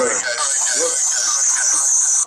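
A speech jammer app plays a voice back through a repeating echo delay. Layered copies of the speech pile up in a loud, smeared, radio-like wash that fills the whole clip.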